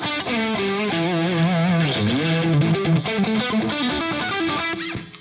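A Squier electric guitar played through a boost pedal plays a distorted lead line, with sustained, bent and wavering notes, loud and alone, ending on a short pick scrape.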